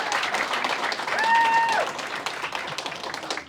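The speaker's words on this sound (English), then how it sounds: "Yeah, you can clap" An audience claps in honor of the county sheriffs, moderate applause throughout that swells briefly in the middle, with a short electronic tone or whistle sounding over it.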